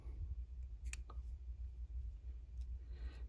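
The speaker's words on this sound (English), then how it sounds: "cut it down the middle" Scissors snipping rubber legs for a fly during fly tying, a few faint, sharp clicks spread over a quiet background with no talk.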